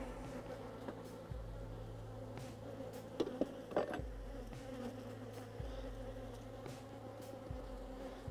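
Honey bees buzz steadily in an open hive during an apiary inspection, a dense continuous drone with a few brief clinks and handling knocks over it, no talking.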